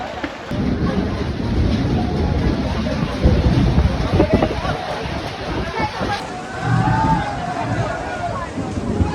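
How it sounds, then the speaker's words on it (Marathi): Strong gusty wind of a storm with rain buffets the microphone in a loud, continuous roar, with muffled voices partly buried beneath it, on Jyotiba hill, Kolhapur, during the Chaitra fair. "एवढा सोबत वारा पण येतोय, पाऊस पण टिपा पडतोय, वादळ पूर्ण"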